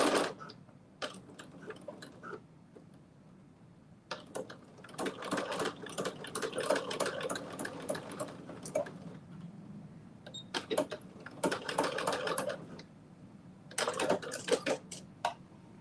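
Sewing machine fitted with a ruffle foot stitches ruffles in several rapid, clattering bursts separated by short pauses, close and fairly loud.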